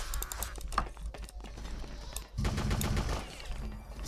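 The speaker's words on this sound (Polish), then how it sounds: "Jeszcze gdzieś słyszę strzały." Rapid bursts of distant gunfire in the video game BloodRayne crackle in quick, uneven volleys, with a rumbling low-end layer partway through; no voices.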